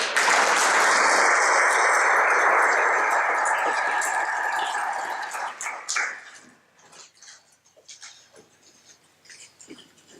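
A crowd at a civic appreciation event gives the mayor a round of applause: dense, loud clapping that holds steady for several seconds, then thins to scattered claps and tapers off.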